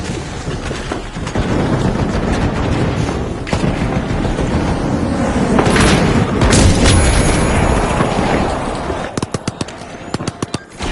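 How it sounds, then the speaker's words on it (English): Booming grenade blasts and crackling bursts from the shooter game The Finals, loud and dense, with a rapid volley of sharp pops near the end. "Throwing food grenade."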